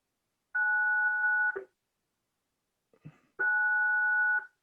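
A gate intercom rings with two long electronic two-tone buzzes about two seconds apart, clean and steady, with a small clunk just before the second ring.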